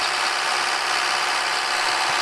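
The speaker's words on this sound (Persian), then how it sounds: "چالش تک تک تراکتورهای این بازی رو براتون میگیرم" The smallest tractor in a farming video game strains under load, its small engine giving a steady, buzzy drone with no change in pitch or rhythm throughout.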